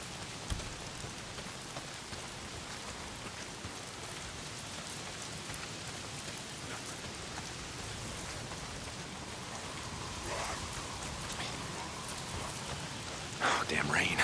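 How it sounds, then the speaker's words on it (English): Steady rain pours down in the video game Days Gone, a dense even hiss of drops hitting surfaces across the whole stretch, with a brief louder patter near the end. "Oh, damn rain. If it's not the freaks, it's the goddamn rain."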